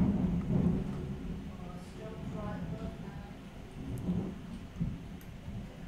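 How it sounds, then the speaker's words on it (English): A thunderstorm with heavy rain: faint, distant low thunder rumbles beneath a steady hiss of rain, while someone indoors talks quietly over it. "If the power goes out, guys, it's because we've got an electrical storm"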